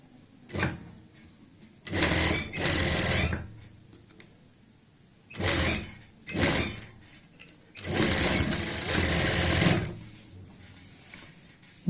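Sewing machine running a half-inch straight seam joining a garment's shoulder, in short stitching bursts of one to two seconds separated by brief pauses, close and fairly loud.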